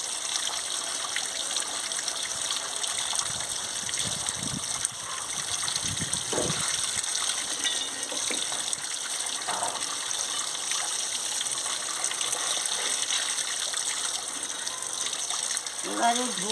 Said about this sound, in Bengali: এবারে ধুয়ে নিচ্ছি।